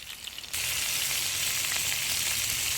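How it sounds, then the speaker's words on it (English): Pork chops searing in a cast iron pan, a steady loud sizzle that kicks in abruptly after a quiet half second and holds evenly to the end. "let these go for a few minutes and get each side seared up"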